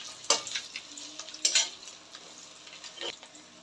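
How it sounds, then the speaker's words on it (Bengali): Fish roe sizzles in hot oil in a pan while a spoon scrapes and flips it, giving a steady crackle with three sharper clinks of metal on the pan spaced across the stretch, with no talking. "যে কোনো বড় মাছের ডিম এভাবে ভেজে নেওয়া যাবে"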